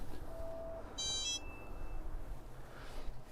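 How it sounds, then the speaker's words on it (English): A short electronic alarm chirps a couple of times, thin and fairly close, during a home strength workout over a constant low background hiss. "Need to adjust that alarm."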